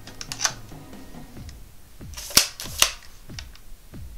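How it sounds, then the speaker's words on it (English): Mechanical clicks and ratcheting of a Speed Graphic press camera shutter being wound, a few sharp snaps standing out amid quieter clicks, close and otherwise quiet. "You wind up the shutter."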